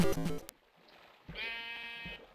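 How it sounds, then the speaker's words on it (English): A sheep in Minecraft bleats twice, loud and close, the first cry short and harsh and the second a longer wavering call after a brief pause. "Sheep, stop it!"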